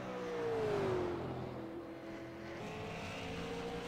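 Super Late Model race car on a qualifying lap at a short oval track, engine droning loud and steady with a falling then rising pitch as it runs through the turns, close by and with no talking over it.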